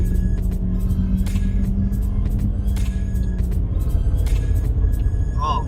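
MINI car engine accelerating: a steady, loud, throbbing engine rumble heard from inside the car, continuous throughout with no speech.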